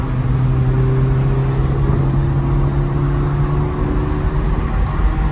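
Ferrari Mondial t Coupe engine heard from inside while driving, a loud, steady droning hum with even tonal lines that hold throughout, no voices over it.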